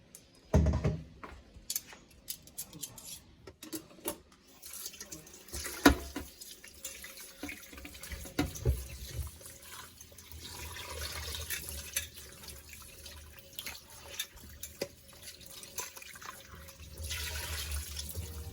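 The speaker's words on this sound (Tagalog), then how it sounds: "Hugasan na po natin siya." A pork leg is washed under a running kitchen tap, water splashing and gurgling into the sink with irregular bursts as the meat is handled, fairly close and with no talk.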